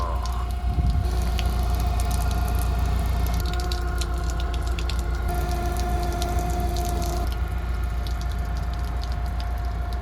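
Water draining and trickling through holes drilled in the floorboard of a flooded Honda S2000, a steady close wash of splashing and dripping with no talk.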